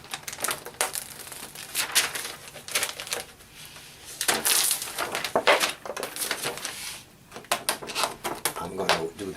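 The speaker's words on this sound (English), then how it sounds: "now I'm going to peel off the lamination on the other side" Lamination film peeled off a library paperback book, a run of crackly, crinkling tears and rubbing sounds in uneven bursts, close and fairly loud, with some background noise between pulls.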